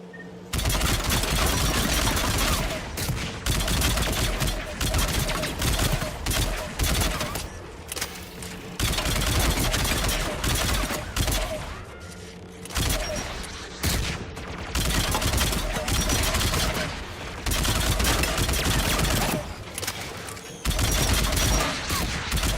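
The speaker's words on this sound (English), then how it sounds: "AA guns ahead of us." Anti-aircraft guns pound continuously in Mass Effect 3, a loud, dense barrage of rapid bursts that fills the whole stretch with only brief gaps.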